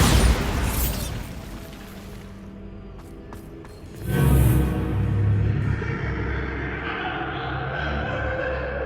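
A Bombarda spell blast goes off in Hogwarts Legacy: a sudden loud burst with a heavy rumbling boom that rolls on for several seconds after quieter mechanical clicks.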